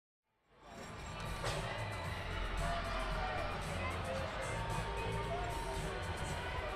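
Crowd at a championship indoor football game cheers and shouts steadily for a t-shirt toss, a dense, sustained roar of many voices that swells in after a brief quiet start and holds loud throughout.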